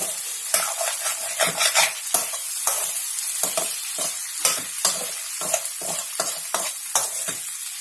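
A spoon scrapes and stirs potato bhaji filling for a Bombay sandwich in a hot pan, with repeated rhythmic scraping strokes over a steady close sizzle of frying.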